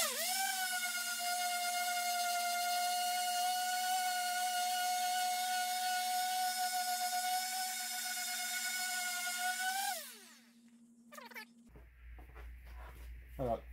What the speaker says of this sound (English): And I'll take my sander.